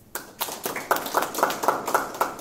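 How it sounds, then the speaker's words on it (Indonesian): Hands clap in a quick, fairly regular rhythm at a business mentoring community gathering in Surabaya. The claps are close and crisp, about four per second, for a little over two seconds, with no talk over them. "Tepuk tangan."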